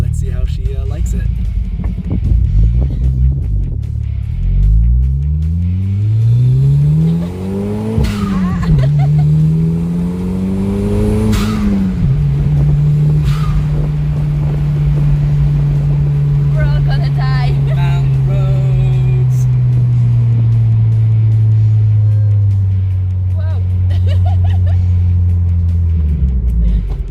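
A Toyota MR2 turbo accelerates through the gears, the engine note rising in repeated revving sweeps with shift dips, then settling into a steady cruising drone, loud and close from inside the car with voices talking over it.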